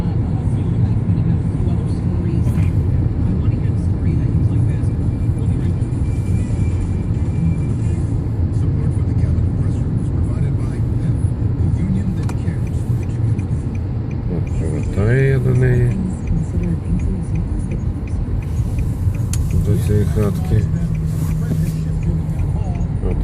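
A car driving through snowy suburban winter streets on the outskirts of Corning: a steady, loud engine and road rumble runs throughout, with someone talking over it and a few brief higher whines and hisses from passing traffic.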